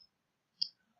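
A single soft computer mouse click, short and close, in otherwise near silence.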